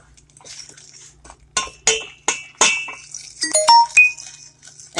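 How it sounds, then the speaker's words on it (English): A utensil clinks and scrapes against a pan in quick bursts as brown sugar is stirred into melted butter, close and fairly loud with brief pauses between strokes. "I'm going to go ahead and start mixing in my brown sugar."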